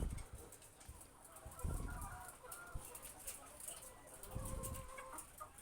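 RTL layer hens kept for egg production cluck quietly in their pens, with a few soft, short clucks standing out over faint background rustle and distant chatter.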